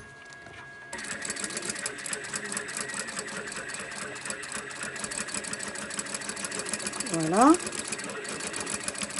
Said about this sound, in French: je n'ai pas besoin de faire une belle couture, hein, c'est une couture de maintien